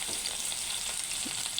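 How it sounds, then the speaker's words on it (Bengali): Onion added to potatoes frying in oil for khichuri, a steady close sizzle with soft stirring crackles throughout. "এখন আমি কিছু পেঁয়াজ দিয়ে দিলাম"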